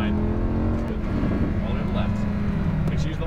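A Lamborghini Huracan LP610-4 on the Exotics Racing track, its engine droning loudly and steadily from inside the car as the throttle is squeezed, with a voice coaching over it.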